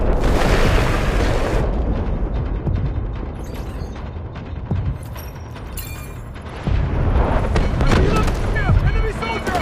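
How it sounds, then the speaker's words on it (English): Artillery barrage explosions in Delta Force's 24v24 Warfare mode on the Threshold map, heavy booms and rumbling blasts layered with mechanical clatter and other in-game voices, loud and continuous throughout. "Artillery barrage incoming."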